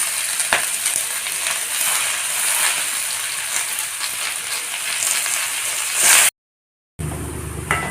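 Steady, close sizzling of arai keerai spinach frying in a pan, a continuous bright hiss with occasional faint stirring, cut by a brief gap of silence near the end.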